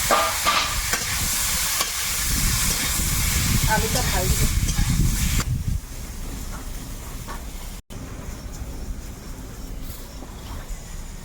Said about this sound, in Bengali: আলুটা ওদিকে ভাজা হচ্ছে